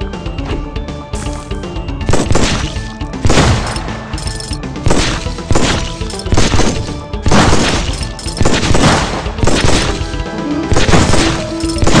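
Heavy shotgun blasts in the mobile zombie shooter Undead Squad, loud booming shots repeating roughly every second over a busy clattering, crunching game soundtrack, with impacts and breaking noises between them.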